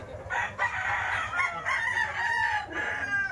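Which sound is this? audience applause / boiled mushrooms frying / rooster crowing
rooster crowing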